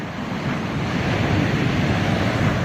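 Ocean surf rolls and washes steadily along the Vietnamese coast near the Vinh Moc tunnels, with wind buffeting the microphone in a constant broadband roar and no voices.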